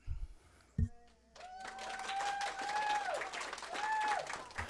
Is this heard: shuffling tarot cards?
no